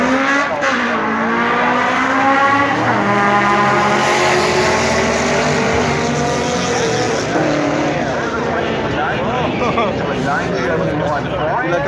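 Drag racing cars scream as they accelerate hard down the strip, loud rising engine notes sweeping upward together with tire squeal, while a commentator talks over them.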